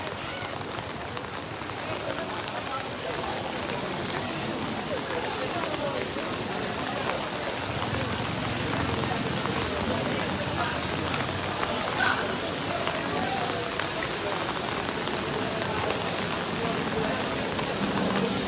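Heavy, constant rain pattering on surfaces at a cattle market, a dense steady hiss with faint voices underneath.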